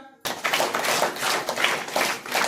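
Audience applause at an Independence Day celebration in a school meeting in Odisha, a dense burst of many hands clapping that starts abruptly and continues steadily, fairly loud and close.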